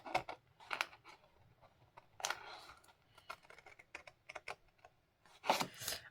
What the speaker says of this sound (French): Donc, je coupe le long des 2 premiers traits. Ensuite, ici, je coupe en diagonale.